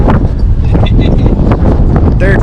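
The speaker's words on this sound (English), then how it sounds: "It's been real windy, as you can tell." Strong wind buffets the microphone on Donner Lake during kokanee fishing, a loud, steady roar that never lets up.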